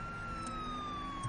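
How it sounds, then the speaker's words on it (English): Police car siren in the video game Vehicle Simulator, a faint, steady electronic wail with a slowly falling pitch, heard alone over low background noise. "Oh, and H is a siren."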